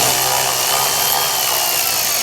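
A power driver whirs steadily and loudly, backing a T25 Torx screw out of the right-hand front camera on a recalled Ford, with no talk over it.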